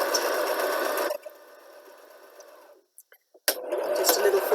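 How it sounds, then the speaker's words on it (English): Sewing machine stitches fabric for an Easter chick project, a loud steady whir that drops to a quieter run, pauses with a few faint clicks, then resumes at full speed. "press the foot back down again, and then stitch to the end."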